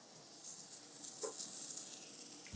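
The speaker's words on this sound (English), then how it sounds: "Now I'm gonna add my garlic." Garlic hits a hot pan of mushrooms and sizzles, a steady, fairly close frying hiss that carries evenly throughout with no talking.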